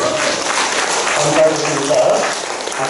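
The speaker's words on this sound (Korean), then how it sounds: "박수 한번 쳐주실까요?" A church congregation at a Wednesday service claps for an elder recovering his health, a brief moderate patter of applause mixed with a voice speaking over it.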